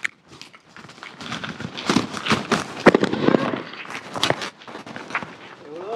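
A 3.5 fancy firecracker set off at a Sivakasi crackers live test: a dense crackling barrage of pops and bursts lasting several seconds, fairly loud and close, with some crowd noise mixed in.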